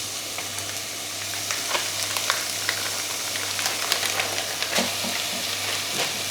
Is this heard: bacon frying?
yes